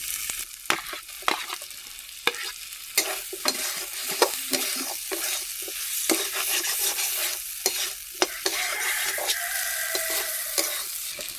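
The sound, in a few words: fried potatoes stir-fried into fish curry masala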